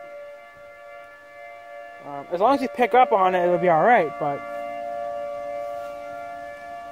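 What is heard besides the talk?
siren wailing outdoors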